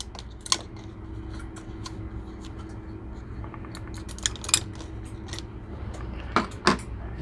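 Scissors chop up drinking straws indoors, giving a handful of sharp, sparse snips and clicks over a quiet background hum, with a cluster of cuts near the end.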